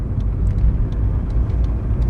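A car drives on the way to a car wash, its steady low engine and road rumble continuous and close throughout.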